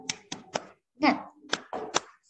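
A school class does a rhythmic group clap routine, sharp bursts of hand claps spaced in a patterned beat, with children's voices chanting between the claps.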